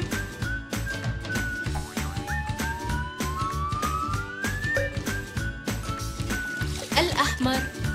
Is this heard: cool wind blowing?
no